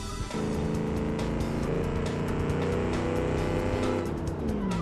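A seven-litre V8 engine in a BeamNG.drive car with a damaged front end revs hard and steadily while the car spins donuts, loud and close with a constant growling drone.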